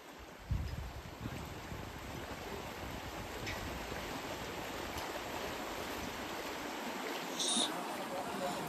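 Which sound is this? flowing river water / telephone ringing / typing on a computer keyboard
flowing river water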